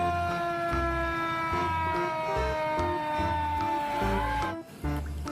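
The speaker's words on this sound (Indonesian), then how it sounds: "ini damkar, mobil pemadam kebakaran" A toy fire engine wails an electronic siren in a steady, close loop, its tones sliding and repeating over clicking toy-mechanism noise, with a brief cut-out near the end.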